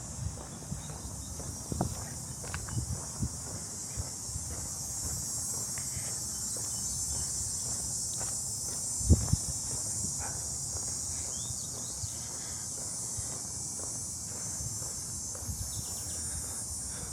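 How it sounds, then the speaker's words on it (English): Cicadas buzz steadily in a high, continuous drone along a street walk in Etobicoke, Toronto, in August, with faint footsteps and distant traffic underneath and a brief louder knock near the middle. "Oh, I just love listening to the sounds of cicadas."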